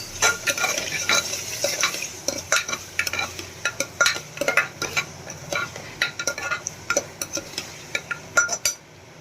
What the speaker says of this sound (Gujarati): મિક્સ કરી લઈએ।